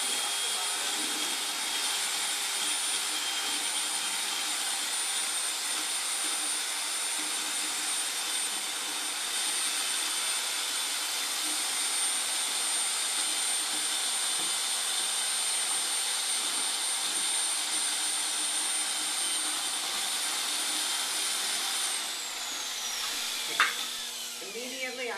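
A power mixer whirs steadily in a bucket of ceramic glaze, a loud continuous high-pitched motor drone with a churning wash, then winding down near the end with a brief clatter.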